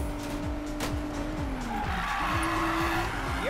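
Car drifting with loud, sustained tire squeal in Need for Speed Payback, an illegal street race, with engine tones sweeping through gear shifts over a steady roar throughout.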